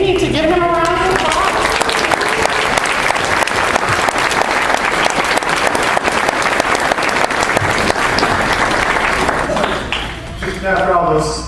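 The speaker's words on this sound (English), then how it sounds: "You need to give him a round of applause." Wedding guests at an after-party give a long, full round of applause, many hands clapping steadily and loudly for several seconds. Speech is heard briefly at the start and again as the clapping fades near the end.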